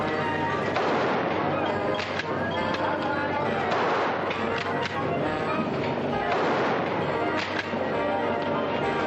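Gunfire rings out at a Coney Island shooting gallery: several sharp reports spaced a second or two apart over a constant hissy, lo-fi background.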